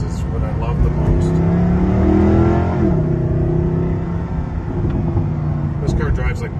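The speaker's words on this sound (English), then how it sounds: "The rumble of these is what I love the most." Loud engine rumble from a 2012 Mercedes-Benz SLS AMG coupe, revving up, dropping back after a shift near the middle, then settling into a steady throaty drone.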